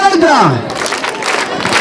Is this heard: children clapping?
yes